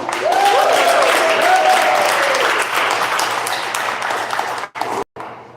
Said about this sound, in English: Can we give it up? A round of applause for the King Edward?